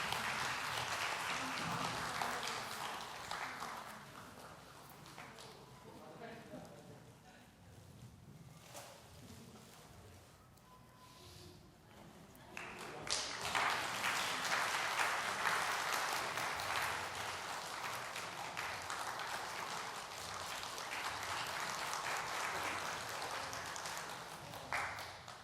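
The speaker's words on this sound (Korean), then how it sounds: "박수해 주시죠." Church congregation applauding at a retirement thanksgiving service, dense clapping that fades into a quieter, murmuring stretch, then swells again into sustained, fairly distant applause.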